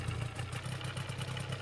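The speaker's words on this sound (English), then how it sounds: "Engine going." An ultralight aircraft engine runs in the UltraWings VR flight game, a steady buzzing drone with a low, even pulse that holds at moderate level throughout, with no one talking.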